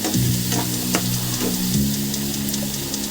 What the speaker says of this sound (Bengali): আলুটা হালকা ফ্রাই হয়ে গেছে